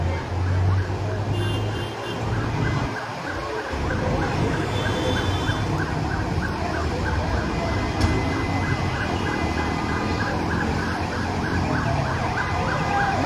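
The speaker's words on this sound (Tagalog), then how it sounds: "Yan, may fire truck na." A wailing fire truck siren rises and falls steadily over heavy traffic and crowd noise at a fire on Macapagal Avenue, with voices talking nearby throughout.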